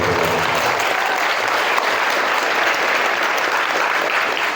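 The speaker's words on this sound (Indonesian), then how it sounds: "Bunda, tepuk tangan buat Bunda." Loud, dense audience applause for the mothers at a motivational seminar, many hands clapping steadily and close throughout.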